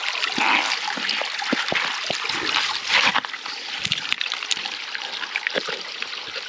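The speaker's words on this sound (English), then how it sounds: "Can add a little bit more water here." Water poured into a small hand-built diorama, a loud continuous splashing trickle for about three seconds, then quieter intermittent drips and sloshes.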